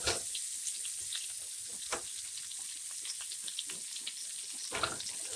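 Butter sizzles and crackles steadily in a hot pan, a third of a stick melting down for blackened shrimp, with a constant close hiss and scattered pops and no voices.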